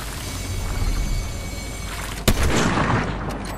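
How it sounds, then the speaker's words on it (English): Gunfire in the video game Fortnite rattles over a dense, noisy game soundscape, with one sharp, loud shot standing out near the end before the din continues. "What are you shooting at?"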